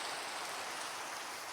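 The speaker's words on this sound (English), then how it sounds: "let's wait for the rain" Steady rain falling in the video game Minecraft, a constant soft hiss of dense drops with no breaks or other sounds, evenly textured from start to finish.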